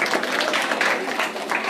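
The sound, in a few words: children clapping in applause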